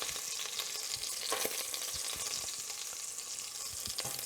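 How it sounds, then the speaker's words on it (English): Beef chunks browning in a hot pan for beef bourguignon give off a steady, crackling sizzle with faint stirring scrapes, moderately quiet and continuous. "So we've browned the first half of our meat. Now we can go in with the other half."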